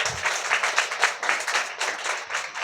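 A church congregation claps loudly and steadily at a service, many hands producing a dense, rhythmic patter of applause that stays fairly even, with no voices over it.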